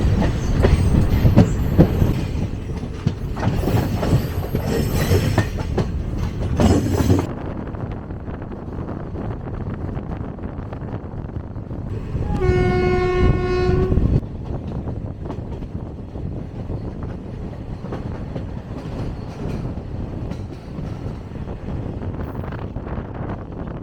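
A Kamban Express passenger train on a single-track line toward Tiruvarur rolls along the rails with steady rumble and wind noise, while a loud horn blast sounds partway through.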